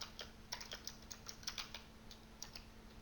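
Pascal code being typed on a computer keyboard: quick, irregular keystroke clicks close by, with a steady low electrical hum underneath.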